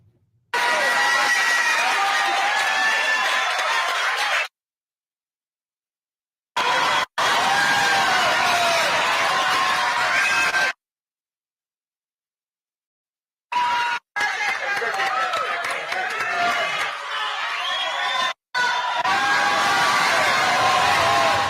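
A crowd at a Trump event in a church, with cheering, clapping and chatter in loud bursts broken by abrupt silent gaps.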